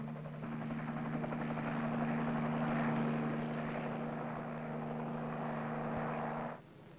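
A military helicopter flies steadily with a droning rotor and engine buzz, holding a constant level for several seconds before cutting off abruptly.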